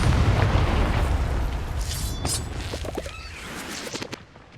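A Confringo fire spell from Hogwarts Legacy goes off as a loud, deep explosive boom, then rumbles and crackles away over several seconds with small bursts inside the decay.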